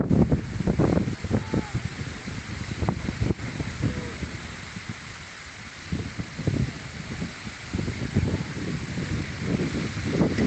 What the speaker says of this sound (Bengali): ওই হাসিফ আর ওই যে লঙ্গি টঙ্গি সব উড়িয়ে যাইতেছে বাতাস